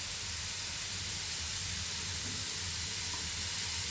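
Milk poured into a hot pan of grated carrot halwa gives a steady loud sizzle and hiss, a constant broad steamy wash with no talk over it.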